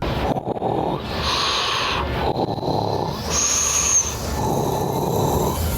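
Someone imitates a Disney-style cartoon snore with loud, gravelly, breathy rasps drawn out in a few long pulls, close to the microphone and without other speech.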